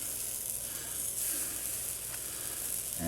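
Chunks of bacon sizzle steadily in a hot bakoyaki pan, making a continuous soft, hissy frying crackle at low volume with no talk over it.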